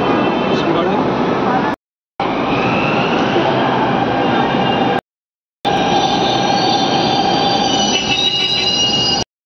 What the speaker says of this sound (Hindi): तो दोस्तों हमारी मेट्रो आ गई है, इसी में हम जाएंगे कश्मीरी गेट।